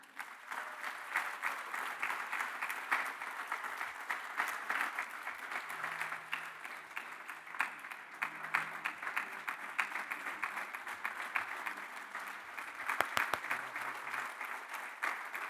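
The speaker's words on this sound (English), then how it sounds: "please join me in a round of applause for Judge Roberto Andrés Gallardo" Sustained applause from a dinner audience honoring Judge Roberto Andrés Gallardo at an honorary degree ceremony, a steady dense wash of many clapping hands lasting throughout with no voices over it.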